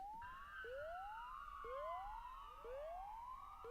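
Police siren wailing in repeated rising sweeps, several cycles in a row, heard at a moderate distance over a quiet background, with no talking.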